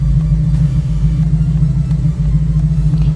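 A 1979 Chevrolet Camaro Z28 engine idles steadily around 1,000 RPM with a low, even rumble and a constant hum, no revving, close up and fairly loud throughout.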